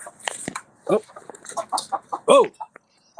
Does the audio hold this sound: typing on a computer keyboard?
no